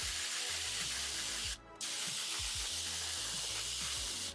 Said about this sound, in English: For our 2 microgreen trays, we need to mist both of these trays with some water.